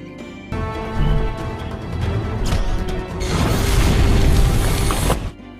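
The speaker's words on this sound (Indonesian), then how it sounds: "Bangunan pun runtuh karena laser dari Deadpool" A film scene from X-Men Origins: Wolverine in which a laser blast brings a building down, heard as a sudden heavy boom followed by a sustained roaring crash of collapsing debris that swells louder before cutting off.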